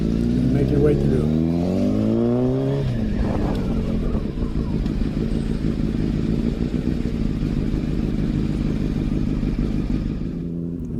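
A motorcycle engine rides through heavy rush-hour traffic, revving up with a rising whine before settling into a steady, close, continuous drone.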